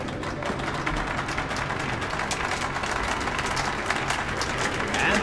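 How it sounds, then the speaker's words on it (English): A crowd in the game Metro Last Light applauds the heroes at an exhibition show, a steady, moderately distant wash of dense clapping that holds evenly for about five seconds. "Let us cheer for the heroes at exhibition!"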